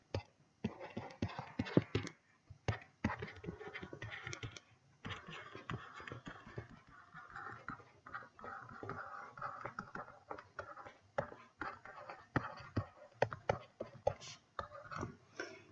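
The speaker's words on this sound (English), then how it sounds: "So we can just simply write that down onto our sheets." Pen writing on paper sheets during a maths lesson, heard up close as a quiet, irregular run of scratchy strokes and small taps, faint overall and with no talk over it.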